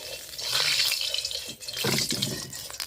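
Cut potatoes and eggplant rinsed under a running kitchen tap, water splashing steadily in a sink, briefly dropping off and then resuming, close by.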